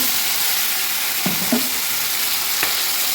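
Onions frying in a pan as a cumin, chili and onion spice paste goes in, producing a continuous close hiss of sizzling oil with a couple of brief clinks and stirring scrapes.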